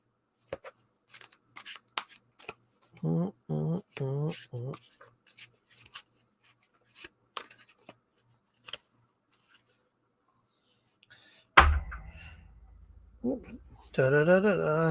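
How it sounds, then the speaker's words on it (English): Tarot cards are shuffled awkwardly by hand in a series of short papery riffles and soft slaps, close and quiet, broken up by stretches of talk. "Now, I got the camera way up high so you can see my awkward shuffling."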